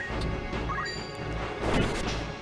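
Attack impacts in a Final Fantasy Tactics: The Ivalice Chronicles battle on Mandalia Plain, a couple of quick crunching smash hits with a swishing strike, short and punchy, no talk.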